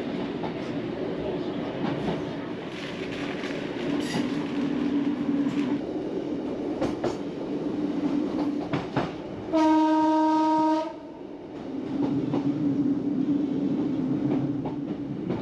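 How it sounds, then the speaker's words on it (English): Class 150 diesel train on a branch line rolling through a curve, with a rumbling run, a sharp tonal wheel squeal near the middle and continued clatter afterward. "the 150's wheels squeal around the curve as we squeeze through the foliage"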